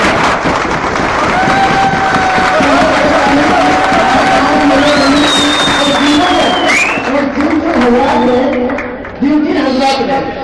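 A crowd at a gathering at a Riyadh power plant in Saudi Arabia applauds loudly, the dense clapping mixed with cheering, whistle-like voices and chatter, continuing for about ten seconds.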